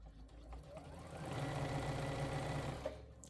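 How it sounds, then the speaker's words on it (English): A sewing machine stitches fabric for a bias tape casing, a fast even mechanical whir that builds after a soft start and runs steadily, fairly quiet and close, with no voices. "So all I'm doing right now is just stitching."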